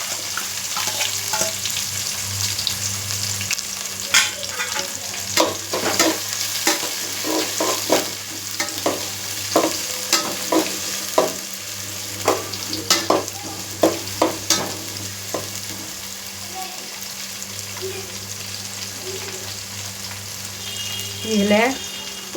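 Chopped shallots frying in oil for a fish curry, a steady sizzle broken by frequent scraping stirs of a spoon in the pan, close and fairly loud, with brief faint speech.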